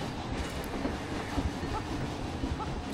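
A roller coaster train running on its track in the Planet Coaster game, a steady rumbling rattle of wheels with faint rhythmic clacks, continuous and fairly close with no voice over it.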